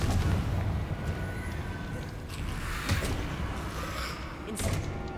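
Confringo blasting spells explode in Hogwarts Legacy, a string of booming impacts and thuds over a busy rumbling combat backdrop, with sharp bursts near the middle and end.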